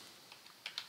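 Quiet typing on a computer keyboard, a few light, irregular key clicks growing slightly louder toward the end, alone with no voices.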